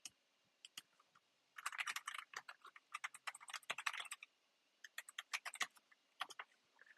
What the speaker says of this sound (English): I'll type this on the chat box.